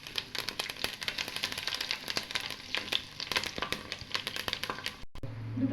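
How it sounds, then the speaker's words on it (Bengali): Whole garam masala spices, among them cinnamon, black peppercorns and grated nutmeg, crackling and sizzling in hot oil for chicken pulao, a dense steady frying crackle with sharp pops, close and continuous before a brief stop. "সমস্ত মশলা দিয়ে দেবো তেলের মধ্যে।"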